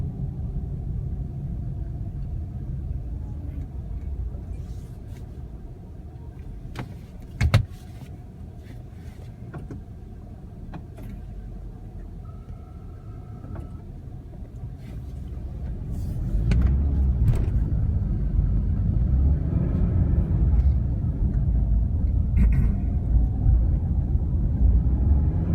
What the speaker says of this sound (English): traffic's pretty bad today